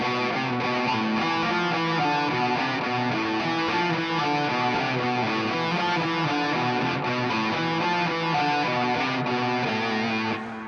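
Electric guitar playing the second anchor shape with a repeating 1-3-4 fingering pattern, a steady stream of picked notes with a slightly driven tone, loud and continuous with no talking.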